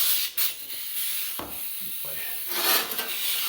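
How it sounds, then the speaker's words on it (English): Hand shears cutting rusted sheet metal during rust repair on a Kubota RTV 1100 utility vehicle, heard as short rasping, scraping snips close by with small pauses between cuts. "I'm going to take the shears and cut here and here"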